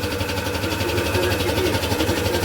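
A motorbike engine idles steadily at a Ganesh idol-making workshop, a continuous low mechanical hum running throughout with background voices.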